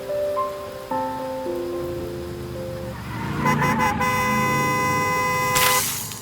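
Rain falling on a street, a steady hiss beneath passing cars and several honking horns, with a sharp burst of louder spray near the end.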